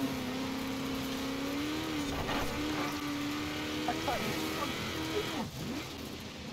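A car engine in Forza Horizon 4, driven in a Dakar-style rally race, drones steadily, with its pitch rising and falling as the car changes speed. The engine noise carries on throughout, and someone talks over it.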